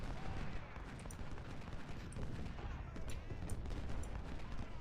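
Massed musket and rifle volleys from soldiers in the Civil War strategy game Ultimate General: Civil War crackle continuously, a dense, distant-sounding fusillade of overlapping shots rolling steadily without a break.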